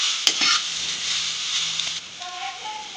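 Fried vegetables for veg chowmein stirred in a pan, a bright sizzling hiss with scraping of a spatula and a few metallic clinks, steady and close for most of the stretch before thinning out near the end.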